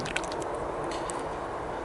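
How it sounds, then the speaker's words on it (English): A bottle of Woodland Scenics water tint is shaken, giving a brief, continuous liquid sloshing and squishing, fairly quiet and heard alone. "So I'm going to give it a good shake."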